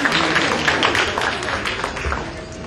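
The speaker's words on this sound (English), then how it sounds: "Can I have a round of applause for our media," A crowd at an evening ceremony applauds the press media. The clapping is dense and steady from start to finish, and a little voice noise mixes into it.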